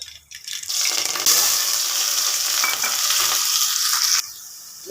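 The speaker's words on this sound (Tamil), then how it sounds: "கடுகு போடலாம்." Mustard seeds hit a hot pan for a mushroom kulambu, a loud, close, hissing sizzle that bursts in abruptly, holds steady for a few seconds, then cuts off.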